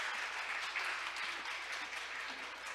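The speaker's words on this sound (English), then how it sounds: "Let's give him a big round of applause" A ceremony audience at the 2022 Korea Maritime Week claps steadily. The applause is sustained and even, with a moderate, roomy sound and little talk.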